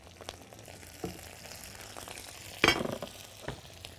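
Mushrooms frying in a pan are stirred, with a soft, quiet sizzle and occasional utensil clicks, plus one louder scraping burst partway through.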